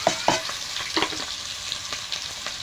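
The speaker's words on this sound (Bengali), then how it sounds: "তেলটা গরম হয়ে গেছে। এবার পেঁয়াজ দিয়ে দেবো, পেঁয়াজ কুচি।" Chopped onion hits hot oil for a Bengali mutton kasha, giving a bright, close sizzle marked by several sharp spatters and scraping stirs, with no voices.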